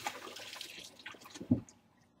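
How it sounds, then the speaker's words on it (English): Tap water runs in a home kitchen during hand washing, splashing and trickling unevenly at close range, with a brief louder slosh near the end before it fades off. "I'm going to wash my hands."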